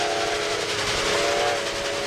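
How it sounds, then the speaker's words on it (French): An arriving steam train lets out a loud, steady whistle over a broad hiss of steam, sustained for the whole stretch without pause or speech. "Ça y est, il est là, le train !"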